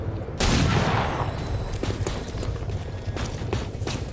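Gunfire in the video game XCOM 2, a sudden loud blast opening a dense rattling volley that decays into scattered sharp cracks and debris.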